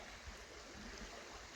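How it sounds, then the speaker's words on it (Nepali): A small, clear mountain stream flows along a trail with a steady, even broadband rush of water, soft and continuous, with no voices. "यो एकदम स्वच्छ पानी कलकल कलकल बगिरहेको छ।"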